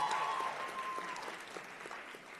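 A roomful of people claps steadily for a nursing faculty member at a convocation, sustained applause at moderate distance with no pauses.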